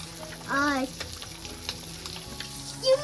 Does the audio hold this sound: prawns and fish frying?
yes